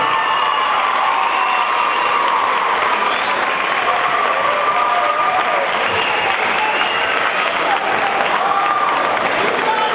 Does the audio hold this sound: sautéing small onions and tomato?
no